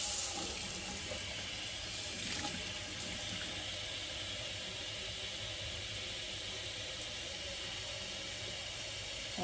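Water runs steadily from a tap, a continuous rushing hiss as a container fills, with no talking.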